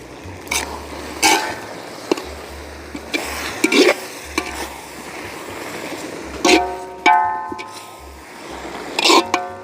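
Keaw mango paste scraped and stirred in a pan while it cooks, giving repeated wet scraping strokes with a light sizzle underneath, close and steady with no talking.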